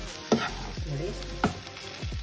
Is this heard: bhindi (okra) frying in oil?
yes